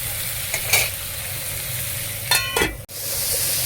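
Mixed vegetables with paneer fry in a hot pan with a steady close sizzle, interrupted by two short bursts of stirring or clattering near the start and again toward the end, then an abrupt brief drop before the sizzle resumes.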